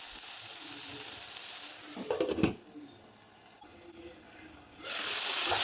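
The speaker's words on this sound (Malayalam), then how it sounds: "എല്ലാം കൂടി ഇട്ട് കൊടുത്തൊന്ന് വഴറ്റി കൊടുക്കാം" Chopped ivy gourd and potato sizzle softly in a hot pan, a stirring scrape briefly rising before the quiet frying hiss returns and swells louder at the end.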